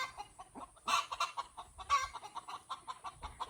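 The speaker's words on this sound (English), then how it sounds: "sometimes you just got to go sit with the chooks" Backyard chickens cluck in a steady run of short, soft calls, a few louder squawks standing out near the middle, fairly close with no voices.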